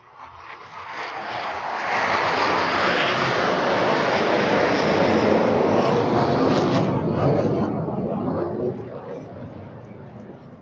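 An FA-50PH Fighting Eagle fighter jet makes a high-speed opening pass at a presidential inauguration ceremony, a loud broad roar swelling up, holding for several seconds, then fading as it passes.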